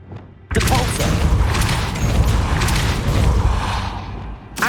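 The Depulso spell cast at a gate in the Hogwarts Legacy video game: a sudden loud blast that swells into a sustained rumbling, crackling roar, up close and filling the space, with a voice present.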